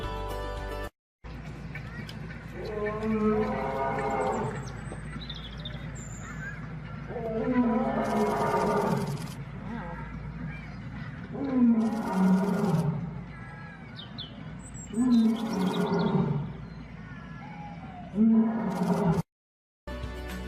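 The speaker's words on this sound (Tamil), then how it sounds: "சிங்கம் முழங்கும்." A lion roars in a series of four or five deep, heavy calls spaced a few seconds apart, loud and close, after a brief spoken moment at the start.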